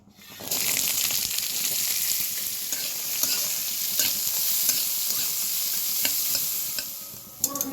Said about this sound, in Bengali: এবার ওই সেম তেলের মধ্যে আমি বিনসগুলোকে ভেজে নেব।